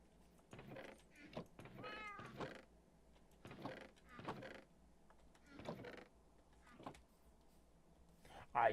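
A Minecraft cat gives several short, high meows in a row, quiet to moderate, mixed in with a voice speaking over the game.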